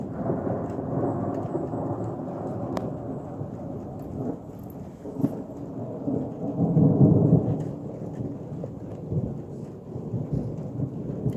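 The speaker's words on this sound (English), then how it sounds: "The storm is here." A thunderstorm rolls on with deep, continuous thunder rumbling under steady rain, a dense low roar that swells midway, with no voices.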